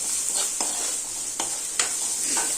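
Ginger fries on a high flame in a pan, a steady bright sizzle broken by a few soft stirring scrapes, close and unaccompanied.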